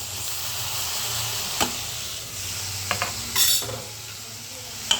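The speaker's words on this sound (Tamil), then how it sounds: "எல்லாத்தையும் இப்படியே ஒன்றா கிண்டி விட்டு" Onion, tomato and peanuts being stirred together in a hot pan for a sundakkai peanut kuzhambu, a steady close sizzle with a few sharp scrapes and clinks of the spoon against the pan.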